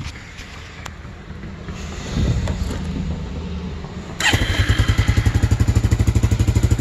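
A 1999 Arctic Cat 300 4x4 ATV engine, unplugged from its electrical connector, runs near the microphone: a low rumble at first, then from about four seconds a louder, steady rapid idle thumping with a rattly edge.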